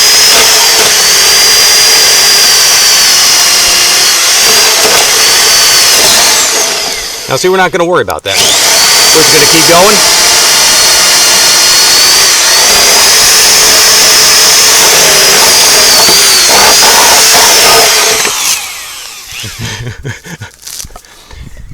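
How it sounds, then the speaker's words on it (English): A power drill whines loudly and steadily, pausing briefly then running again for a long stretch, with someone talking over it before it winds down. "It always helps to have a really sharp drill."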